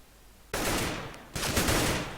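Gunfire in a Counter-Strike-style esports match erupts after a quiet start, a dense loud burst of rapid shots, a brief dip, then a second sustained volley.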